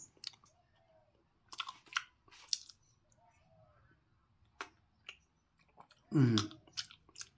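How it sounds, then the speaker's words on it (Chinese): Soft cooked chestnut being chewed produces quiet, sparse mouth clicks and squelches in near silence, with one louder, fuller chew near the end. "再吃一口栗子"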